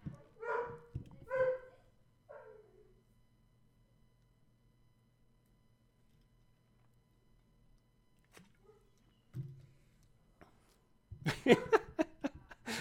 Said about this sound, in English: Can you hear that poodle dog up there?